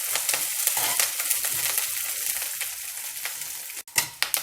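Green chillies and curry leaves fry in hot oil with a bright, continuous sizzle and quick crackles, close up, with a spoon scraping the pan near the end and no voices.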